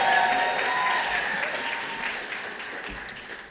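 Applause at a game awards ceremony, starting fairly full and gradually thinning out, with a few scattered sharper claps near the end.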